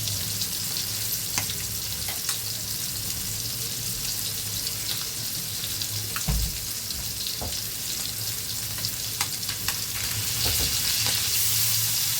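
Fish frying in a pan, giving off a continuous, even sizzle and crackle for the whole stretch, with occasional light clicks and one soft knock partway through, and no voices.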